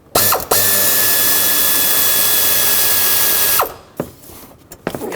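A 13mm socket on an extension, driven by a power tool, spins a bolt loose on a 2003-2021 Chevrolet Express during serpentine belt work: a brief burst, then one loud sustained whine lasting about three seconds, followed by a few faint clicks and clunks.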